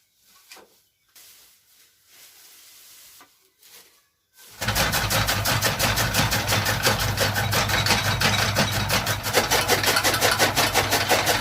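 A fodder chopping machine's engine starts after a quiet stretch of faint knocks, then runs loud and steady with a constant low mechanical drone and rapid chattering for the rest of the clip.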